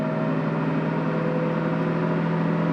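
A Ford 6.7 diesel truck drones steadily under load, its engine and transmission holding a constant loud hum with strong tonal bands as it moves from fifth into sixth gear, without any sharp break in the sound.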